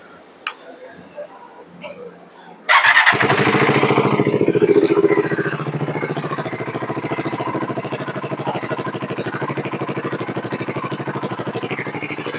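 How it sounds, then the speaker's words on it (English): A BSA Goldstar 650 motorcycle with its dB killer removed from the standard exhaust barks into life after a few faint ticks, revs briefly, then settles into a steady, deep, loud idle thump that continues close by. "let's hear this exhaust sound of both the bikes."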